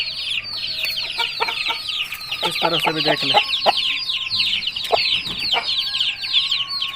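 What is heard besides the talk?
aseel rooster clucking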